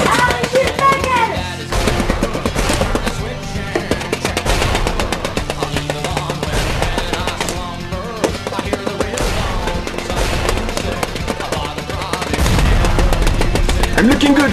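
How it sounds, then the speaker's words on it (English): Enemy aircraft fire in a video game is a dense, continuous loud rattle of machine-gun and gunfire bursts layered with game noise, with voices shouting over it. "he's shooting at us!"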